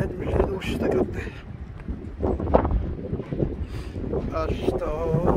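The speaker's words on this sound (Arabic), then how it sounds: "الريح مشهد مشهد والشتا كطيح" Strong wind and heavy rain in Al Hoceima, Morocco, with gusty wind buffeting the microphone in loud rumbling bursts and a voice speaking briefly underneath.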